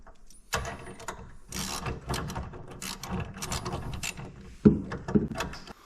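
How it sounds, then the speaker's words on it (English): Ratchet with a 13mm socket tightening a bolt on a sportsbar bracket for a 2023-2024 Colorado/Canyon pickup, a close, loud run of rapid clicking bursts with brief pauses between strokes. "you're gonna use your 13mm socket to tighten this down"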